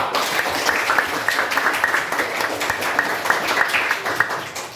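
A classroom audience applauds for a student group during a teaching practice session. Steady, dense clapping fills the room evenly throughout, moderately loud and close, with no break.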